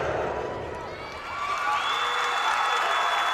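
Crowd at a college gymnastics meet applauding and cheering a floor routine, steady dense clapping with whoops that swell louder toward the end, filling the space with broad sustained noise.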